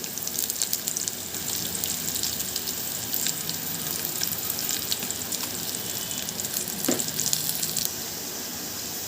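Garlic sizzles and crackles steadily in hot oil, close up, with a brief clink partway through.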